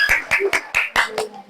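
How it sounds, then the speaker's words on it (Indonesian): A few hands clap in an uneven rhythm for a group of elementary school students in a classroom, close and short-lived. "Kita beri tepuk tangan untuk kelompok"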